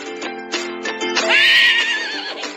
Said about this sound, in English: A horse lives in a stable.